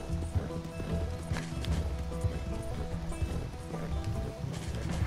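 A horse gallops steadily in the Red Dead Redemption 2 video game, its hooves clopping in a fast rhythm against a dense mix of game sound, fairly loud throughout.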